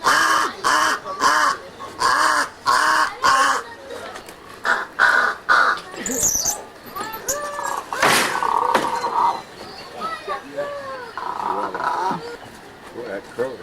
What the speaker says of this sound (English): Boy, that crow is really talking.